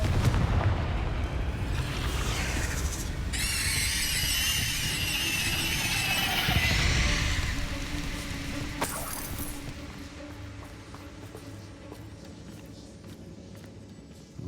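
A Confringo blasting spell erupts in Hogwarts Legacy, a loud fiery burst with crackling, whooshing debris over several seconds that fades into a lower rumble.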